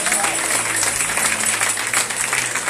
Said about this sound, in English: Clap for yourself, all of you.